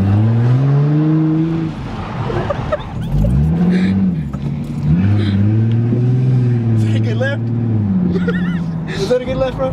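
A car spinning donuts with its engine revving in long rising and falling pulls, loud and close throughout, while people talk over it.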